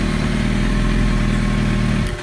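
A 2007 Yamaha R1 sportbike engine runs after a starter rebuild, a loud, steady idle rumble close by that cuts off at the end, with no talk.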